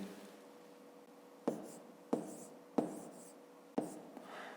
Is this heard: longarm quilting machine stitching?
no